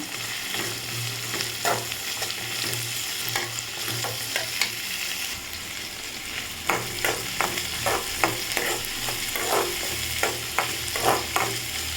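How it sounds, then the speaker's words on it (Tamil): Onions, curry leaves and green chillies sauté in oil for village-style chicken sukka, a constant sizzle broken by repeated sharp spatula scrapes and stirring knocks against the pan. "நம்ம பச்சை மிளகா சேர்த்துக்கலாம் சேர்த்து நல்லா வதக்கிக்கலாம்"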